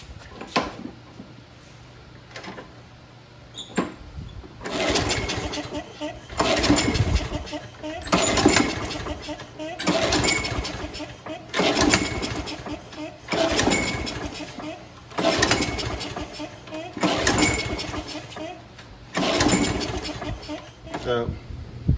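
A Toro Personal Pace self-propelled walk-behind lawn mower in rough, abused condition is pulled repeatedly, its engine catching in a series of loud surging bursts with brief pauses between, close by, with a voice speaking at times.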